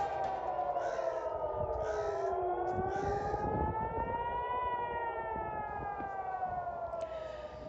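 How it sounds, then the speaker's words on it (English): Wailing air raid sirens rise and fall slowly over Jerusalem, several overlapping tones sustained loudly throughout with faint background noise beneath. "Sirens heard in Jerusalem as we overlook the religious sites of the city"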